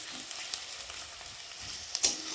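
Egg bhujia fries gently in a pan over low heat, a steady soft sizzle with a couple of small pops and a sharper crackle near the end; no talking.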